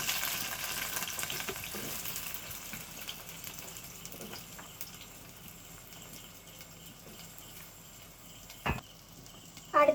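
Onions sizzle and fry in a pan over a wood-fired stove for tomato chutney, a steady soft crackle with occasional stirring and a couple of brief clatters near the end.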